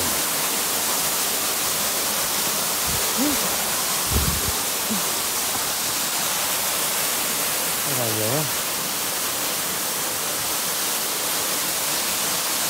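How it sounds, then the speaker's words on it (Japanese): Powerful waterfall roar at Kuroyama Santaki in Ogose, Saitama, Japan: a loud, unbroken rushing wash that fills the scene, with a few brief voices talking over it near the middle. "豪快な滝ですね"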